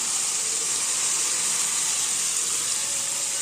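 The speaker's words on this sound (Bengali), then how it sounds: "তো মাংসটা এরপর এখানে দিয়ে দিচ্ছি।" Marinated chicken hits a pan of sizzling spice paste, giving a loud, continuous broadband hiss that stays even throughout, close up and without talk.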